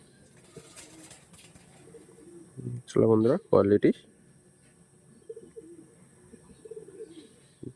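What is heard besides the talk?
pigeons cooing, Kalpora Kaldom generation pigeons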